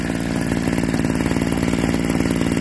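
A Lister LD1 stationary engine runs at a steam rally, its single cylinder giving a rapid, even chugging thud that stays loud, close and steady throughout.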